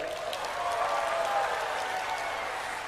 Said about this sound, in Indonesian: Tepuk tangan untuk Trenggalek.